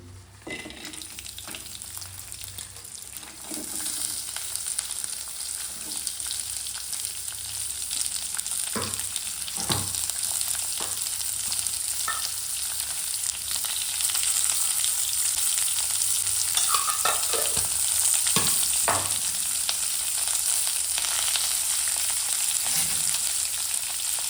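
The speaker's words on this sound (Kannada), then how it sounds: "ಈಗ ಮಟನ್ ಸಾಂಬಾರು ಮಾಡ್ಕೊಳ್ಳೋಕ್ಕೆ ಈರುಳ್ಳಿ ಬೆಳ್ಳುಳ್ಳಿನ ಹುರ್ಕೊಬಿಡೋಣ." Onion and garlic frying in hot oil for mutton sambar, a steady hissing sizzle that grows slightly louder over time, with occasional clinks and scrapes of a stirring spoon and no speech.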